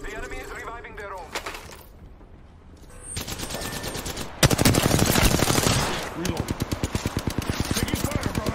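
Rapid automatic gunfire in the Apex Legends video game, bursts of closely spaced shots growing denser and louder toward the end, mixed with game voice lines and a player talking.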